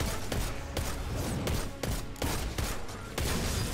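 Scout rifle gunfire in Destiny 2 Lightfall, a loud series of sharp, evenly spaced shots, roughly eight in under four seconds, dominating the mix with little else audible.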